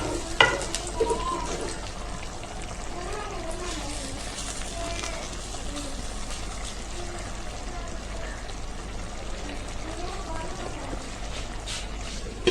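Crispy fried onions go into a pan of mung dal chicken, giving a soft, continuous sizzle and stirring while a person talks over it.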